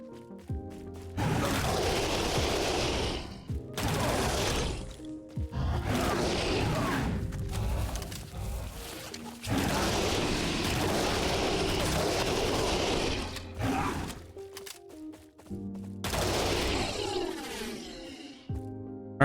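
A MAC-10 submachine gun firing 9mm rounds in the STALCRAFT video game: several sustained rapid-fire bursts, loud and continuous, separated by brief pauses.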